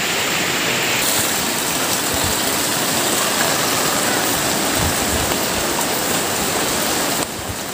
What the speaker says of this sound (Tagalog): Ano kasi yung ilog, malakas ang baha.